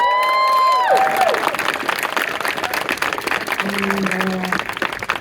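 A crowd at a pro-Palestinian rally at UCLA claps and cheers in a dense, steady wash of applause, with brief tonal sounds near the start and end.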